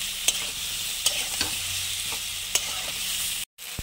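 Spices sautéing together in a pan for a corn curry, a constant close sizzle punctuated by a few sharp spoon taps, cutting off briefly near the end, with no talk.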